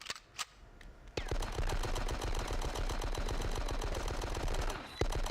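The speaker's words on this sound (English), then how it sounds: "that distorted gun sounds horrible" Harsh, distorted automatic gunfire from the 2002 PC game Die Hard: Nakatomi Plaza bursts in after a few quiet sounds, a rapid, loud stream of shots lasting several seconds before a final crack.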